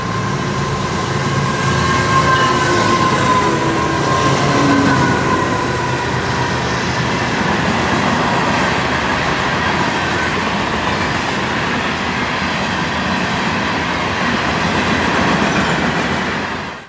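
An FEC freight train hauled by GEVO locomotives with an LNG fuel tender rumbles past loudly and steadily, with wheel noise and clatter sustained throughout and a faint tone early on.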